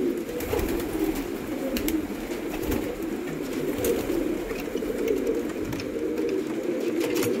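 Racing pigeons coo continuously in a low, throbbing murmur close by, a dense flock sound with occasional sharper clicks and no voices.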